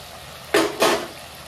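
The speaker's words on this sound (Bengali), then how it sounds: "মশলা কষানো হয়ে গেছে, আমি দিয়ে দিচ্ছি মাছগুলো।" Fish pieces for doi katla dropped into cooked masala in a pan, two quick sizzling bursts close by, then a quiet simmer.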